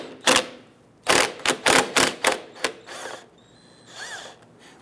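Close-up ratcheting on a 10mm nut holding a plastic shield near the gas tank strap of a 2011-2019 Ford Explorer 3.5L: several short, sharp bursts of rapid clicking, then softer handling noises.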